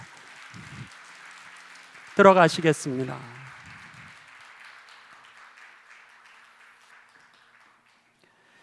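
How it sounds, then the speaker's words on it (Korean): A church congregation at a Methodist baptism and confirmation service applauds, a broad wash of clapping that gradually fades away, with a voice speaking briefly over it. "여러분 박수해 주시겠습니다"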